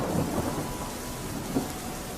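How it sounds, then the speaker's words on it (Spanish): A nighttime thunderstorm with heavy rain: a steady dense rain wash runs throughout with low rumbling thunder, and a brief swell near the end, no voices. "La tormenta no cesaba."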